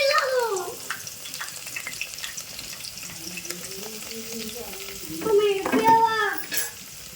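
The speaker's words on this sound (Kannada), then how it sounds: "ಉಳ್ಳಾಗಡ್ಡಿ ಮೆಣಸಿನ್ಕಾಯಿ ನೋಡ್ರಿ ಚಂದ ಫ್ರೈ ಆಗ್ಯಾವ್ರಿ" Chopped onions and green chilies sizzling and frying in a pan while being stirred, a steady close crackle with scraping spoon strokes and a louder burst near the end, a faint voice briefly underneath.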